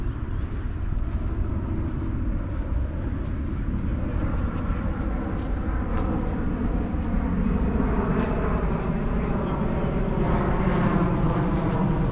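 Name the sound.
airplane flying overhead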